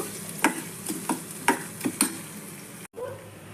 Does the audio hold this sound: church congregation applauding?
no